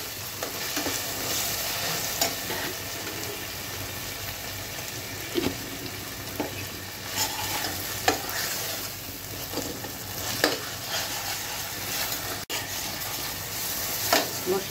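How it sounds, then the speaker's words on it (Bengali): Spices and ginger paste frying in hot oil for a creamy chicken dish, a steady close sizzle with scattered scrapes and stirring knocks throughout, no talking. "মশলাগুলো কিন্তু মোটামুটি ভাজা হয়ে গিয়েছে"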